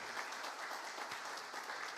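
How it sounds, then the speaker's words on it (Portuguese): A church congregation applauding during a service, a brief burst of dense, even clapping from many hands, heard at a moderate distance with a roomy wash and no speech over it. "eu peço uma forte salva de palmas ao nosso Senhor Jesus Cristo."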